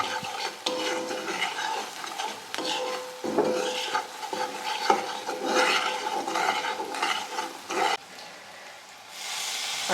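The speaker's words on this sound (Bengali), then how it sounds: "জিরে গুঁড়ো এইগুলো সব দিয়ে দিলাম দিয়ে একটু লাল লাল করে ভাজবো এটা" Ground turmeric, chilli, coriander and cumin fry in a pan for mustard rui fish, stirred constantly: loud, close scraping and sizzling runs for several seconds, then softens toward the end.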